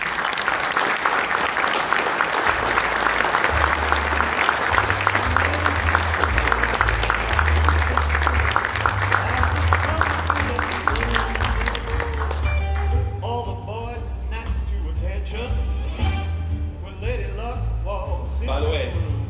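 An audience at a Hall of Fame ceremony applauds to welcome Sudharshan Chary to the podium, loud sustained clapping with music underneath that fades into quieter scattered claps and voices.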